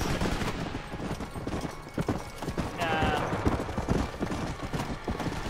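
Rhythmic horse hooves clip-clop steadily over a busy Red Dead Redemption: Undead Nightmare game soundscape, with someone talking over it and a brief tonal chirp midway.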